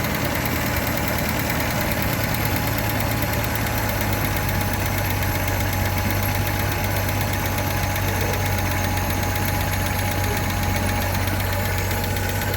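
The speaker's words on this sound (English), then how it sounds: "I'm gonna see if I can bring that idle down and see if she'll stay running." An old car engine that had sat for 28 years idles roughly, close and continuous, a steady low drone with knocking vibration and no voices.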